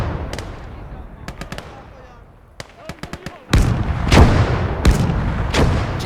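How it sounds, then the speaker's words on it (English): An enemy infantry gun firing in the World War II strategy game Call to Arms: Gates of Hell, with sharp cracks and loud booming shots over a rumbling battlefield, several blasts in the latter half. Someone talks over it. "they've got an infantry gun of their own"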